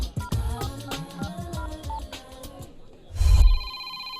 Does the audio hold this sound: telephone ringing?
yes